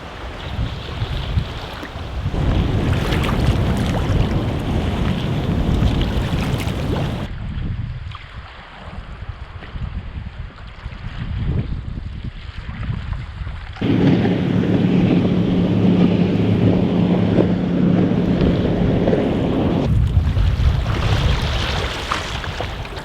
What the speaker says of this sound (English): The wind has picked up, and as a result the waves have got a lot bigger